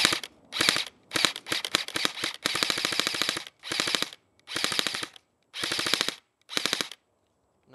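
A JG MP5 airsoft gun firing full auto in about eight rapid, loud, close bursts, each a fast rattling string of shots separated by short silent gaps.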